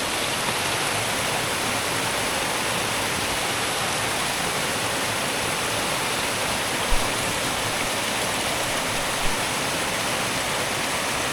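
River water rushing steadily on a White Mountains hiking trail in New Hampshire, a constant broadband roar filling the whole stretch, close and loud with no voices.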